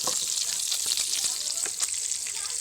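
A fish head fries in hot oil for a fish-head and puffed-rice dish, giving a continuous bright sizzle and hiss with small crackling pops, close and steady.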